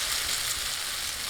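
Rice noodles (bihon) dropped into a frying pan for pansit tinapa, producing a brief, steady sizzle close by.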